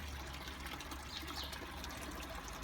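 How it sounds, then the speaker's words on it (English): Pumped fish pond water trickles steadily into the upper plant bed of a home aquaponics setup, a continuous soft splashing flow with no voices. "The two plant beds on the top are being pumped in by the fish pond water, which is below."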